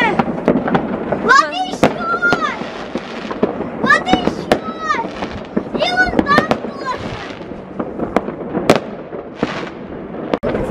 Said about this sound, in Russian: Красивый был салют.